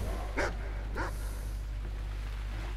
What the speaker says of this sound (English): Please, stop your barking.